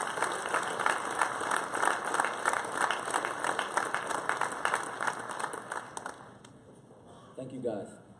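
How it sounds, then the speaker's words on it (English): An audience at a varsity athletic ceremony claps steadily for several seconds. The applause fades toward the end, where a voice can be heard. "Let's give them a round of applause."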